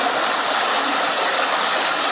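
A small river stream flows in an even, unbroken rush of water, close and moderately loud, with no other sounds over it.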